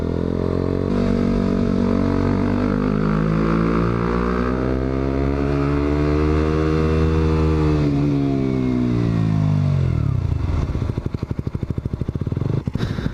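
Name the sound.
Yamaha MT-07 motorcycle with Akrapovic exhaust riding on test drive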